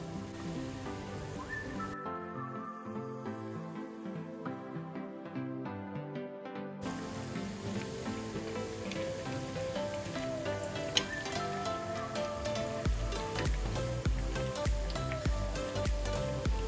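Moong dal vadas sizzling steadily in hot oil, a continuous crackling fry with a brief dip in the middle and sharper spattering pops building toward the end.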